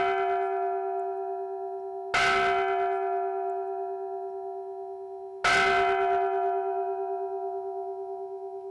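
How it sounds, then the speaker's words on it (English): A meditation bell rings twice, each strike bright and clear with a long shimmering decay, the second strike about three seconds after the first, loud and near with no talk. "A bell is a reminder to stop, to relax, and enjoy 3 calm breaths."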